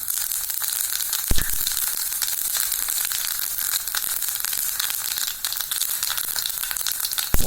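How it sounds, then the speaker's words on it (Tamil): Fennel seeds hit hot oil in a kadai, crackling and popping densely and loudly, with sharp snaps scattered across a continuous sizzle. "இப்போ நம்ம சோம்பு போட்டுடலாம்."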